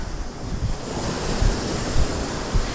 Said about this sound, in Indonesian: Nyampe sini ombaknya.